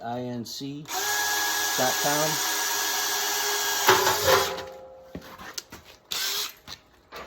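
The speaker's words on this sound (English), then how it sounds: "All of our pilot holes are drilled." A power drill bores pilot holes for a wood stove kit with a long, close, steady whine, briefly broken by short bursts, while a voice sounds at the start.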